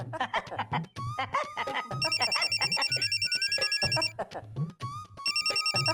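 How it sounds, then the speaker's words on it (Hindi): A phone ringtone trills in repeated bursts over a musical background, with people talking at the same time. "बॉस का फोन है।"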